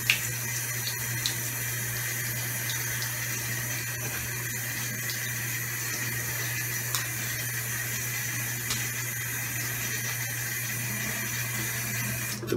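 Tap water runs steadily into a sink while a face is wetted before a straight razor shave, a continuous close hiss with small splashes, no talking.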